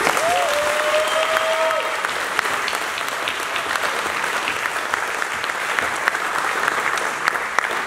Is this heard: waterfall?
no